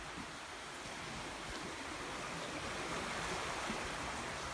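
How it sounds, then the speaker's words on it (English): A narrow river in the Loxley Valley flows with a steady, broad rushing wash, moderately quiet and constant, with some wind in the background and no one speaking. "there's the river."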